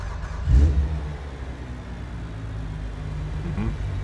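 A tuned police car engine in BeamNG.drive cranks over with a loud low thump, then settles into a steady, rumbling idle, and a second brief blip comes near the end.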